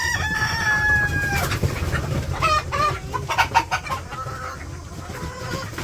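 Quail call nearby in a series of short, chirping clucks and whistles, with a few sharper bursts over a steady background hum.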